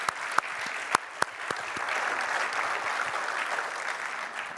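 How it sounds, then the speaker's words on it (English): Audience applause at a Microsoft Power Platform tech conference session, starting with a few sharp separate claps that swell into a softer, steady sustained clapping from the crowd, fairly distant. "Let's clap for that."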